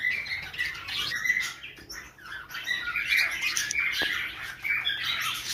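Lutino and albino budgerigars squawk and chirp in a cage, a busy run of sharp, high chatter and calls that keeps going throughout at moderate loudness, with no talking.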